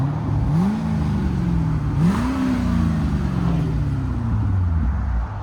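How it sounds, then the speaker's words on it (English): A 2009 Chevy Corvette Z51 with a 6.2L V8 revs with its exhaust valves closed, giving two rising and falling throttle blips over a steady, muffled idle, close and fairly loud. "Very clean Chevy Corvette with valves closed."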